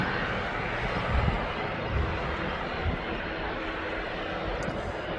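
A Boeing 737-8NG departs East Midlands Airport bound for Antalya, its jet engines giving a steady, loud broadband roar with low rumbling surges throughout.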